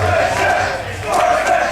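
A wrestling show crowd chants in unison, a loud, dense wall of many voices rising and falling in a steady rhythmic chant that fills the whole hall.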